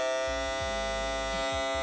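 A broken hair clipper in a barber shop runs with a loud, steady electric buzz, harsh and rattly throughout, with a few faint low thumps underneath.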